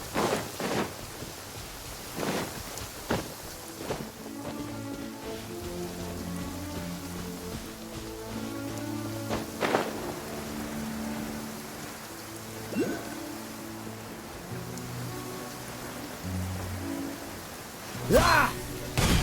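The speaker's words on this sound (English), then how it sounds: "Oh no, it's raining!" Steady rain and rolling thunder in a fantasy video game, with loud thunder cracks breaking in several times over the constant patter of rainfall.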